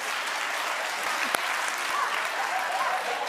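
Audience clapping at a stand-up comedy show, a dense, even burst of applause from a crowd that holds steady throughout.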